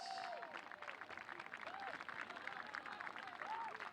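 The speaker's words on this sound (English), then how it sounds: "let's give a round of applause for this year's women's soccer senior" A crowd at the Grizzly Soccer Complex applauds for the women's soccer senior class. The clapping is faint and distant, and a few thin whistle-like tones rise above the steady patter.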